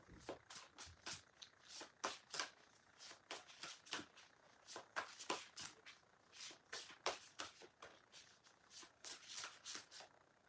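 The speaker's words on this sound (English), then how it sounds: "You're going to have to let me shuffle these cards." Tarot cards being shuffled by hand, quiet and close, a series of quick riffling bursts in irregular rhythm with soft rubbing between them.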